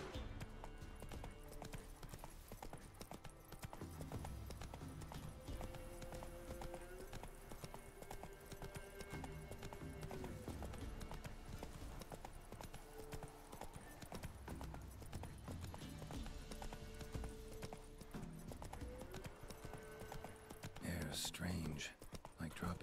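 A horse's hooves clip-clop in a steady, continuous galloping rhythm during play of The Witcher 3: Wild Hunt, moderately close, with someone talking over it and a brief whinny-like sound near the end.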